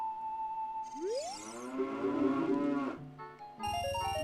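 Synthesized cow moos from the video game The Legend of Zelda: Ocarina of Time, a sliding moo tone followed by chiming jingles and game sound effects, clear with no talking.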